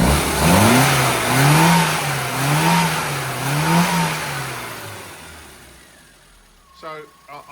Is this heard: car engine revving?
yes